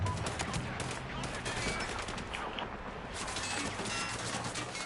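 Sustained automatic gunfire from a video game, a dense, loud, unbroken rattle of shots filling the whole stretch with no pauses.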